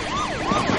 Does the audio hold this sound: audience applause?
no